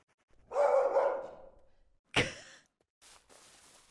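A dog barks in the indie horror video game Urayama, giving one drawn-out bark and then a sharp second one, each followed by a short thud, against otherwise quiet game sound.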